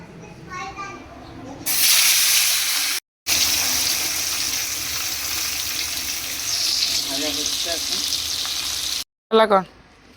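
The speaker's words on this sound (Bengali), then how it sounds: "এই যে এখন মাছ ভাজবো" Fish sizzles loudly and steadily in a hot pan for several seconds, with one short break in the middle. Faint voices can be heard at the start and again at the end.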